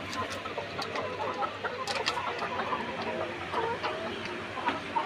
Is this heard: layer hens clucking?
yes